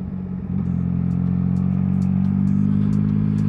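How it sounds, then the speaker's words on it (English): A Suzuki Hayabusa motorcycle engine hums steadily close by and swells slightly louder as the bike rides past, with no talking. "A nice Hayabusa."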